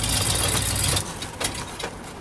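Ford E350 Chinook Class C motorhome engine running loud and steady for about a second, then cutting out, followed by a quieter stretch with a few short knocks and rattles.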